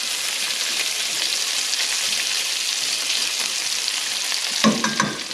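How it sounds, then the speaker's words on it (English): Food fries in bacon grease with a steady, dense crackling sizzle that holds throughout, then a brief clatter of cookware near the end. "using the bacon grease that you cook up at the beginning of your meal to fry the rest of your meal"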